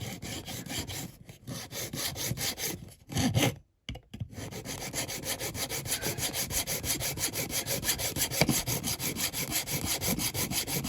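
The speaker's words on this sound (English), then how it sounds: "just use your hacksaw to get right behind the seats" A hacksaw cuts into the plastic interior of a Corgi Mercedes ambulance toy car in steady, rhythmic back-and-forth strokes, with a brief pause partway through before the sawing resumes.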